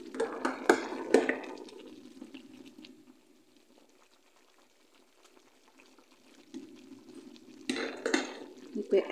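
Chicken being stirred in a cooking pot, with soft utensil scrapes and clinks against the pot in bursts at the start and end, quieter simmering in between.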